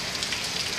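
Steady rain falls in a continuous hiss at even loudness, with no voices over it.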